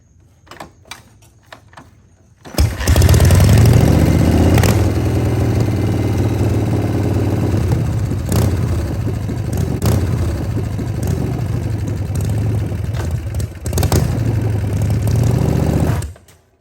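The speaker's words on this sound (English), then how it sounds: "So that was just a normal clutch release." A Harley-Davidson motorcycle with a 4-speed gearbox starts up after quiet clicks, then idles loud and close. Its steady rumble dips and surges as the clutch is released, and the engine cuts off abruptly near the end.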